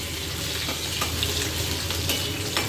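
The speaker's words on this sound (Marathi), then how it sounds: "तेल आपलं मस्त तापलेलं आहे. फोडणी मस्त बसलेली आहे." Green chillies with garlic and curry leaves tempering in hot oil in a kitchen pan for a brinjal and onion curry, a loud, steady close sizzle and crackle with faint scraping, no voices.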